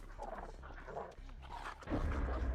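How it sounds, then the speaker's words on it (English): A dog in the Dead by Daylight video game gives a few short barks and whimpers at moderate level over game ambience, ending in a louder rumbling stretch. "the dog found me"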